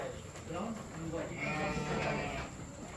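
Sheep bleat in a wavering, overlapping way at a cattle farm in Kuala Lumpur, moderately close, under steady background noise and someone talking.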